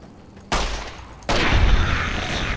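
Gunfire in Fallout New Vegas landing a headshot: two loud, abrupt shots a moment apart, each followed by a rolling, sustained noisy rumble, with no talking over it.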